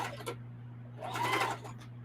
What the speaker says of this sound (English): when I finish sewing these twosies together